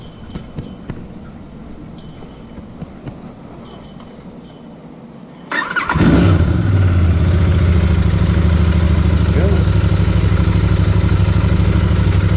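A Royal Enfield Interceptor 650 motorcycle engine starts with a loud burst after several seconds of low background rumble, then settles into a close, steady, deep idle that continues to the end.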